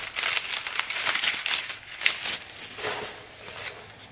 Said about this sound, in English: the last thing in here is the palette. So let's go ahead and unwrap her